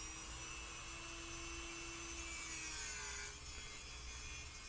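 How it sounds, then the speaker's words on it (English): A heavy-duty metal cutting disc on a Dremel rotary tool grinds through a metal lock, giving a steady, loud high-pitched whine with hissing abrasion that holds continuously throughout. "this is a heavy-duty metal cutting disc that's on the end of my Dremel tool"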